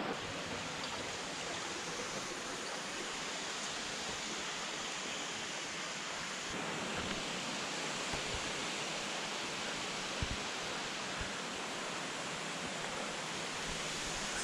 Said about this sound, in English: Little side waterfall coming in up here.